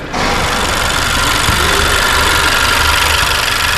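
A 2022 Honda Civic engine idles steadily at close range, a continuous rumbling hum with a slight vibrating texture after a quick start.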